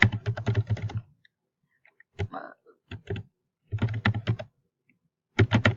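Typing on a computer keyboard for a short research note, in quick clattering bursts separated by pauses. The keys sound close and clear, with no talking.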